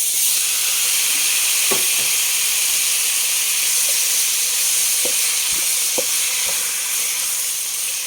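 Beef searing in a little butter in a pan gives a steady, loud sizzle with a broad hiss throughout, broken by a few faint clicks and taps, and no voices.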